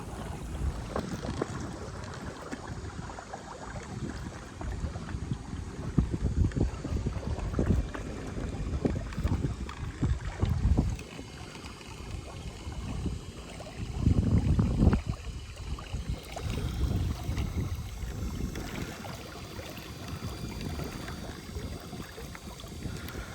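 A Watersnake electric trolling motor pushes a Sevylor Colossus inflatable boat, its low whirr mixed with water splashing and wind buffeting the microphone in an uneven, continuous wash.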